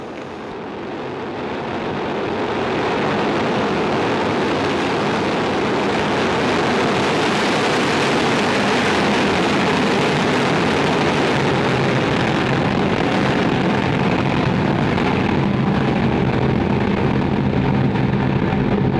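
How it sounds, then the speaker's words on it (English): Soyuz rocket lifting off at Arianespace's Flight VS17 carrying SES-15, a deep broadband roar that swells over the first few seconds and then holds loud and rumbling, distant and without voices. "Liftoff."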